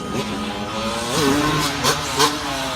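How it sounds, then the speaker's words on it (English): A Yamaha 250 two-stroke motocross motorcycle engine drones steadily and revs up and down with rising and falling pitch, loud and close, with no talking. "He's aboard that Yamaha 250. That's a two-stroke motorcycle."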